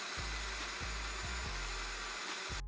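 A blender grinds a pumpkin spice smoothie with sugar and spices, a loud, steady motor whine broken by several short pulses and revs, close up with no talk.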